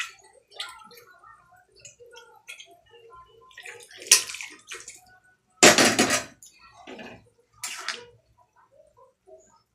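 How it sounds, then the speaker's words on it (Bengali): Water splashes and runs while a pressure cooker is rinsed in a kitchen, coming in irregular bursts with clinks of metal and a loud gush near the middle. "প্রেসারটা ধুয়ে দিয়ে দেবো জলটা।"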